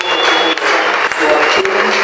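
A church congregation applauds and cheers in a steady, loud, continuous roar lasting about two seconds, with no break.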